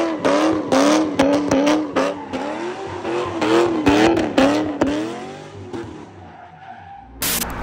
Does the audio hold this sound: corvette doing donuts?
yes